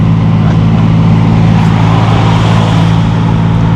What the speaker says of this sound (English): that V6 does sound nice